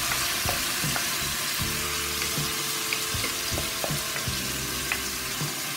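Butter chicken sauce frying in a hot pan gives a steady close sizzle with bubbling and occasional stirring scrapes, with no talking over it.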